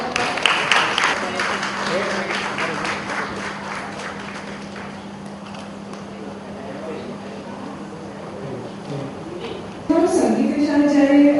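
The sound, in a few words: audience applause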